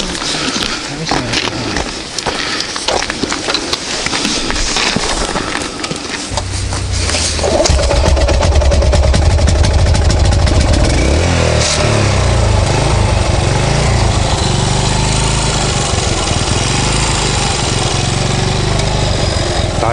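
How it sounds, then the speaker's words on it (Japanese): A motorcycle engine, after the bike fell over, turns over and catches partway through, then settles into a steady, loud, rumbling idle. "エンジンかかります？"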